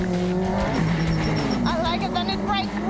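A rallycross car accelerates hard around a track, its engine note droning and climbing in pitch with tyre noise, as someone talks over it.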